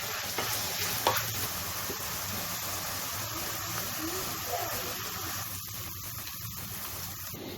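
Onions are sautéed until brown in a pan for a chicken curry, a continuous close sizzle with occasional stirring scrapes, steady throughout with no talk.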